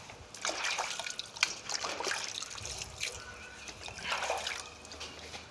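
Ripened mangoes washed by hand in plain water, with close trickling, dripping and light sloshing that rise and fall over a few seconds and no speech.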